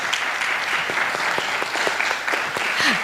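Audience applause fills a startup summit hall at USIU Africa in Nairobi, a steady dense wash of clapping hands that holds throughout with a brief swell near the end.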